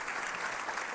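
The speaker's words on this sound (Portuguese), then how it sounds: "senhoras e senhores, aplauda Jesus pela vida do bispo" A church congregation claps steadily and densely throughout, a continuous wash of applause with no voices standing out.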